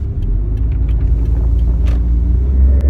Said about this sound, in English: It's really a very fun car to drive